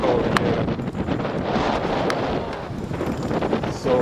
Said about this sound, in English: So cold. And windy as well.